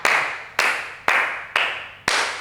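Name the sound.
hands clapping in a circle during a barn dance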